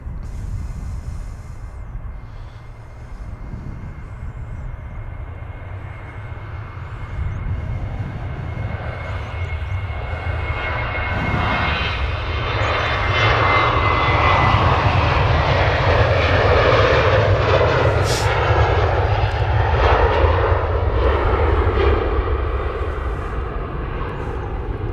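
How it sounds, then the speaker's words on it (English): A Jet2 Boeing 737 takes off at Manchester Airport, its engines a steady, building roar heard from a distance that grows louder and fuller as the aircraft rolls down the runway. "Jet 2 737 on the roll."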